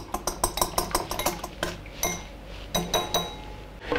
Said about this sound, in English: Break the eggs into a bowl and beat lightly.